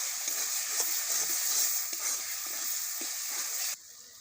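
Masala with chopped tomato, bay leaf and meat masala fries in oil, a close, continuous sizzle broken by the periodic scrape of stirring, then drops off abruptly at the end.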